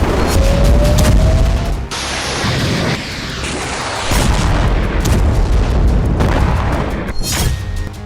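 Rocket strikes exploding over Haifa, Israel, in news footage: loud, continuous booming and rumbling blasts that hold a dense, heavy roar across the whole stretch, with sharper cracks near the end.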